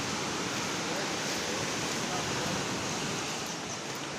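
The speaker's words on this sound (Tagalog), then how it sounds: "Ang lalaki ng alon." Big ocean waves roar in a broad, steady wash of noise on a rainy, stormy day on the Sambales coast, loud and continuous without distinct breaks.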